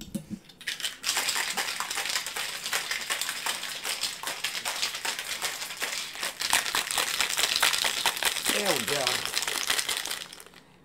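A cocktail shaker holding piña colada with coconut cream is shaken hard, giving a loud, dense run of rapid rattling ice hits that continues for several seconds before stopping, with brief speech near the end.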